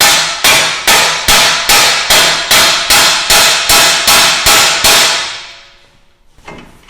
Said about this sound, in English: hit the side of the steering knuckle with a hammer to break the tie rod end loose